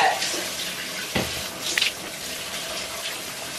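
A home shower runs steadily, a constant hiss of falling water with a couple of brief splashes and knocks, and no one talks.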